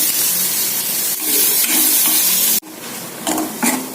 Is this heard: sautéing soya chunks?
yes